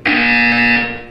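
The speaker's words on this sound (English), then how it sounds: "You will hear a buzzer." A single loud, harsh electronic buzzer from the Portal 2 video game blares for about a second, steady and tonal, then fades at the end.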